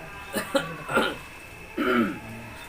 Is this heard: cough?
yes